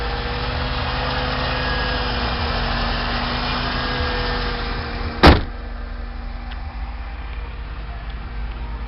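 A newly fitted car engine idles smoothly and evenly at close range, a steady low hum with a single sharp click or knock partway through.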